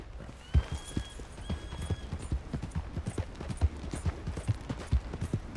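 Horse hooves clip-clop in a steady walking rhythm in Red Dead Redemption 2, close and clear, with a faint thin whistle-like tone early on.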